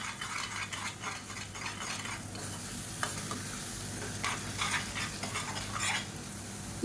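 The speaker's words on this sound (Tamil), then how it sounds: "முட்டை லைட்டாக வெந்துருச்சு இப்போ அப்படியே பரட்டி விட்டுக்கலாம்" Egg being scrambled and frying in a pan for spicy egg kothu idly, a constant low sizzle with repeated scraping and tapping of a spatula against the pan, close and moderately quiet.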